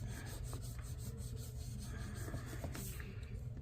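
A sticker is burnished onto a planner page with a few quick, soft rubbing strokes, faint and close, with no talking.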